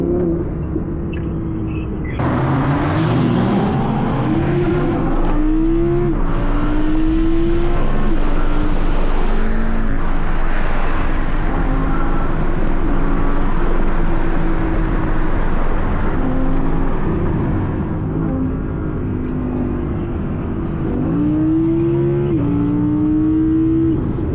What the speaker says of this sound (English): I can't hear shit from in here because the R8's so fucking loud